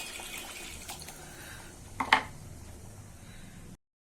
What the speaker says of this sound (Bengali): এবার আমি এই বাটিটা দিয়ে জল দিয়ে দেবো আর একটু জল দেবো